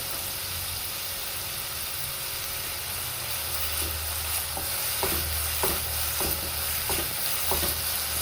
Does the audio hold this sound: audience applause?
no